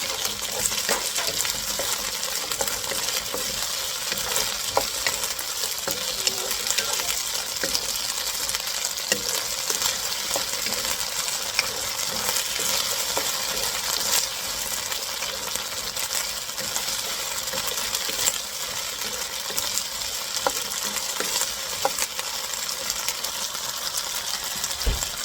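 Pancit bihon ingredients being stir-fried in a pan, a steady close sizzle running throughout, broken by light clinks and scrapes of a utensil against the pan, with no talking.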